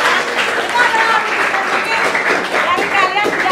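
A class applauds a student named Karissa during a school lesson, steady dense clapping from many hands throughout, fairly loud and close, with voices mixed in.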